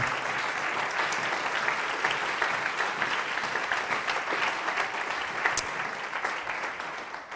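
Congregation in a Spanish-language church sermon gives a long, even round of applause, a thick continuous patter of many hands at moderate loudness that tapers slightly at the end.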